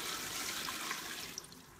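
Water poured from a cup into a plastic tub set up for incubating ball python eggs, a brief close splashing trickle that tapers off with a few drips.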